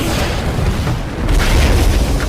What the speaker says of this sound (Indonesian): Ketika mereka tiba, jembatan itu meledak.